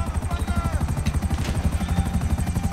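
Helicopter in the Grand Theft Auto 5 video game, its rotor beating in a steady fast chop with a low engine drone throughout, loud and close, with faint voices mixed underneath.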